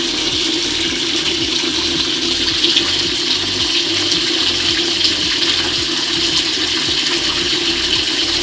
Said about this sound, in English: I'll be closing the outlet tap now and I'll allow the water to fill up.